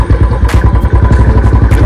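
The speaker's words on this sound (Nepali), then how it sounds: "मेरो बाइक धेरै थरिन्छ।" A Royal Enfield Classic 350 motorcycle engine thumping loudly and close, a steady rapid pulsing rumble with rattling vibration and brief clatter, no voices.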